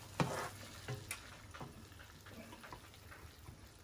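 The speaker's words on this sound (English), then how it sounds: "while the butter is melting, I'll go ahead and start putting the garlic in there" Garlic goes into melting butter in a pan for a chili garlic sauce, giving a quiet sizzle with a few soft clinks and stirring scrapes near the start.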